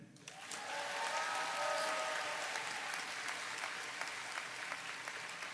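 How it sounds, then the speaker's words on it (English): Broad audience applause at a university graduation ceremony swells and holds steady, a crowd clapping and cheering in a large hall, with a few sharper individual claps standing out. "So a big cheer for them"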